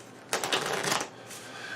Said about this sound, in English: a lot of shuffling in this game